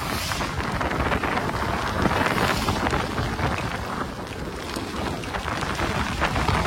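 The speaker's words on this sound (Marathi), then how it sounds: "पाऊस चालू झालेला आहे बघू शकता." Constant rushing noise of rain mixed with wind buffeting the microphone, loud and unbroken throughout, on a TVS motorcycle ride through Tamhini Ghat.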